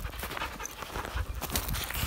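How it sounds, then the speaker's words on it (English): Dog panting close by during a mule deer antler hunt outdoors, a quick rhythmic rasp of breaths over faint rustling. "Dogs. Spoiled dogs."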